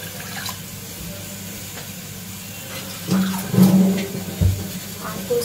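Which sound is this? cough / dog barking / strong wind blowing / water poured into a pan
water poured into a pan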